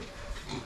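A brown sow of about 80 kilograms grunts on a pig farm, a short, close, rough burst of low snorting sounds with no talk over it.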